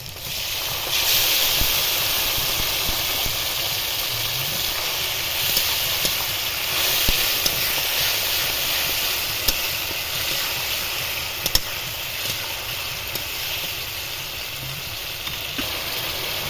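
Tomato paste sizzling in a hot pan while ghugni cooks, a steady broad hiss that runs the whole time with a few faint clicks and pops.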